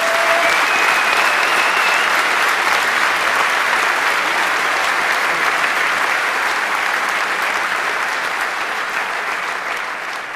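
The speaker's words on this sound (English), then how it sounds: "Give yourselves a round of applause and give a round of applause for these guys" A large conference audience at the 27c3 keynote applauds loudly and continuously, a dense wash of clapping that holds steady for about ten seconds and tapers slightly at the end.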